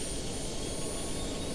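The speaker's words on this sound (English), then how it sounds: "This noise you are hearing is the power being supplied to all components." A helicopter in a mobile flight simulator game powers up its electrical systems, giving a steady, dense turbine-like hum with a faint high whine throughout, constant and unbroken.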